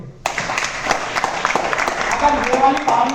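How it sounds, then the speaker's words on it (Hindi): Audience at a network marketing team training session bursting into applause, a dense sustained clatter of many hands clapping together over a few seconds, moderately near. "ताली बजाओ अपने लिए।"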